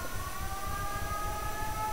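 A steady wailing siren in the Fran Bow game, an even held tone sounding in the background with a low rumble beneath it and no speech.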